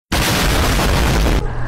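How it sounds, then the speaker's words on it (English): A loud explosion in a video game erupts suddenly as a dense, booming roar that holds steady for over a second, then cuts off abruptly into a quieter rumble. "I saw the explosion"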